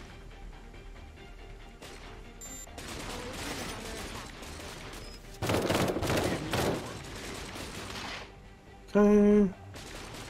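Gunfire in the video game Cepheus Protocol, scattered shots and bursts across a busy battle mix, with a loud dense volley midway and a tonal beep near the end; a voice speaks briefly.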